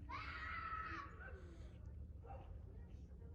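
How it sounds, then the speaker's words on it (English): Children screaming somewhere off at a distance near a bodywork shop, a loud high sustained shriek at first and then fainter cries, all over a steady low rumble of background noise. "I don't know what those kids are screaming about over"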